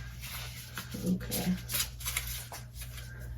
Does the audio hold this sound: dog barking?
no